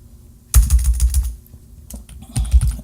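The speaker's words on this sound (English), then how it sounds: "So we come here and type in Elementor" Bursts of quick typing on a computer keyboard, close and fairly loud, with a short pause between runs of keystrokes.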